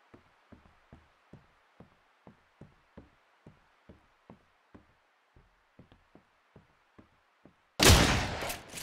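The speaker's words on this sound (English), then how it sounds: "Not there, I was just shooting." About sixteen faint, evenly spaced gunshots from the video game Miscreated tap out in a steady rhythm, ending in a much louder, close blast.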